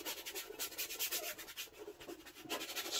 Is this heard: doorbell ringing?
no